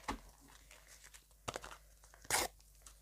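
A small plastic packet of instax photo stickers being torn open and crinkled, with a few soft crunches and rustles and one louder ripping burst, close and fairly quiet, no talking.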